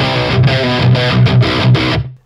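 Tight, lower-gain electric guitar tone from a Hughes&Kettner Tubemeister 18 amp: a loud, steady run of palm-muted chugging notes in a driving rhythm, ending in a quick cutoff.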